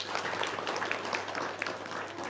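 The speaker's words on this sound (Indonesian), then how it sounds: "tepuk tangan dong" Applause from an audience at an Indonesian religious talk or seminar, a steady wash of many hands clapping at moderate distance for a couple of seconds, with no voices over it.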